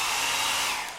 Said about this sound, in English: And so I will forever live and die by my blow dryer, Chelsea.